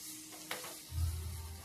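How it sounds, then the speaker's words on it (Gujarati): Green chillies hit hot oil for the tempering of Bombay-style vada pav, a soft sizzle swelling up after a brief clink and then holding as a steady close frying hiss. "એ જ તેલમાં બીજો વઘાર કરશું। તેમાં લીલા મરચાં લીધા છે,"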